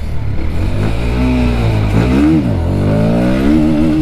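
Bajaj Pulsar NS 160 motorcycle engine revving on a test ride, a loud, close, steady drone with rising and falling pitch sweeps as the throttle is blipped, heard alone.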